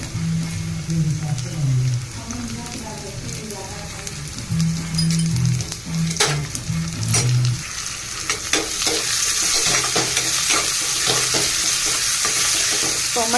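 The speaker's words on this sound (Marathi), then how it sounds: "चांगलं परतवून घेते थोडंसं लालसर होईपर्यंत" Onion-tomato masala with garlic fries in a pan, a steady sizzle under repeated scraping and stirring strokes, with a brief voice early on and the frying growing louder and hissier toward the end.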